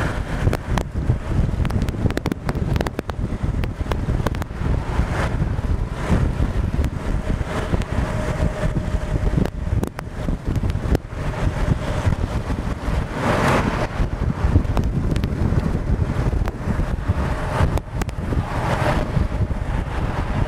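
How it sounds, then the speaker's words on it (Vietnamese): Strong gusting wind on the Rạch Miễu bridge buffets the microphone continuously, a loud rough roar with constant rumbling and no talking throughout. "Ở trên cầu bây giờ gió rất là dữ anh chị."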